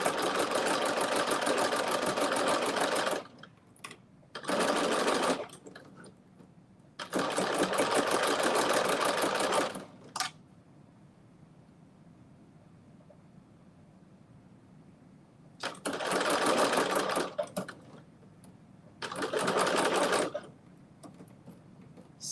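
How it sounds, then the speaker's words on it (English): Home sewing machine fitted with a ruffle foot gathering fabric into ruffles, whirring in four loud bursts of a few seconds each, separated by quiet pauses. "to make the ruffles with your ruffle foot"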